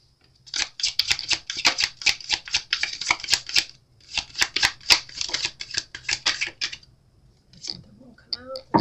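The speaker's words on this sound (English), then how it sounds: "I'm going to choose some oracle cards to see what your overall energy is at this time" Oracle cards being shuffled by hand: quick bursts of crisp, papery riffling clicks in two long runs with a short pause between, followed by a faint voice at the very end.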